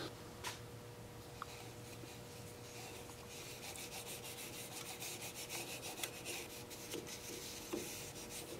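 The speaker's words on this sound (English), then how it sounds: "Now I am going to sand the inside here a little bit" Quiet, continuous scratchy rubbing of sandpaper on the inside of a turned wooden piece, steady back-and-forth strokes with a few faint taps, no voices.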